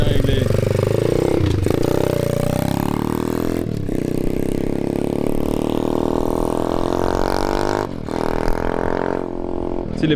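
Motorcycle engine revving on its first ride, a steady loud drone that rises in pitch across the run, with brief dips between throttle pulls and talk over it.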